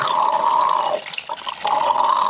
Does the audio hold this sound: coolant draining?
yes